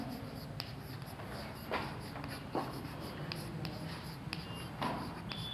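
Chalk or a marker scratches across a board in quick, irregular strokes with short taps between them, heard up close over a low room hum and no speech.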